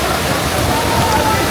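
Cold Himalayan meltwater pours down a waterfall in Bir Billing, Himachal Pradesh, making a steady, loud broadband rush that fills the whole moment without pause.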